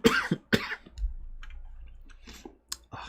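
A single person coughs sharply at close range, two quick bursts near the start followed by quieter clicks, breaths and a few small throat sounds.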